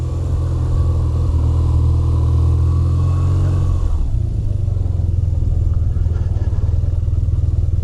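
A 2025 BMW R 12 nineT motorcycle engine idles with a loud, close, deep throb, then the pitch drops and settles into a rougher rhythmic rumble as it pulls away.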